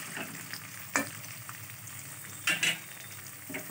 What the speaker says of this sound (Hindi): अब हम इसमें देंगे ये प्याज। अब हम इसे अच्छी तरह से मिक्स कर देंगे।